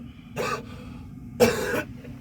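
Two rough, breathy coughs, about a second apart, sound close by over a low background hum.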